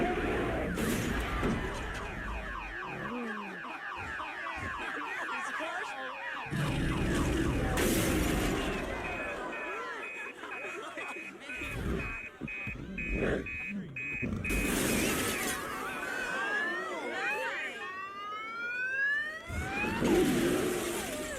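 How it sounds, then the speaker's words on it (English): A car alarm blares on and off while a giant gorilla smashes a Mercedes in a movie scene, loud warbling tones mixed with heavy crashes, shattering glass and dramatic film sound. "The stupid car alarm won't shut off, so he just destroys the car until it stops."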